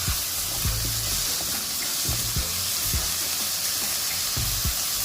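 Singaporean rice with chicken stock and garlic powder being stirred in a hot pan, a steady loud sizzle with periodic scraping strokes of a spoon against the pan.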